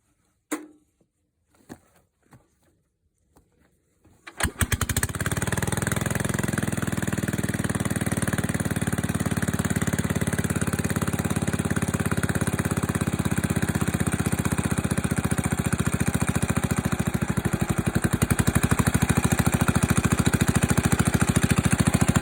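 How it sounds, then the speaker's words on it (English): An old Wisconsin single-cylinder gasoline engine, after a few quiet clicks and knocks, fires up and settles into a loud, steady idle that chugs on close by without talk. "Just idle it like that for a while, so it warms up."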